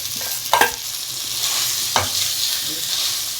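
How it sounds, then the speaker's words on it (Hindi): Mashed potato is stirred with spices in a hot pan for a sandwich filling, a steady sizzle broken by two or three sharp scrapes of a spoon against the pan, close up and without voices. "आलू डाल के अच्छे से इसको मसाले के साथ मिक्स करना हैगा।"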